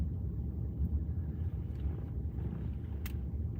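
A propeller-driven C-130 cargo plane passing overhead in the mountains at sunrise, heard as a steady, low, rumbling drone that holds evenly throughout with no voices.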